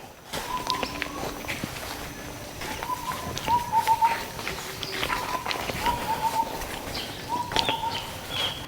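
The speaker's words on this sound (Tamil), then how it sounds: "குருவி கத்துற சத்தம் கேட்குது." Birds call intermittently in a green forest at Attappadi, with short repeated chirps over steady footsteps on a trekking path, fairly near and moderately loud, without talk.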